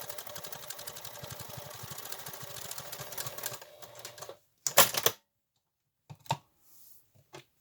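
Sewing machine top stitching a fabric face mask: a fast, steady run of rapid needle strokes for about four seconds, then it stops, followed by a few short handling clicks and rustles in near silence.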